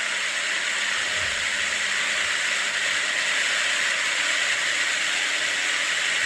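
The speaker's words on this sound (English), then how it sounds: "That's the sound of an electric fan." An electric fan runs with a steady, broad airy hiss, constant in level and close, with nothing else over it.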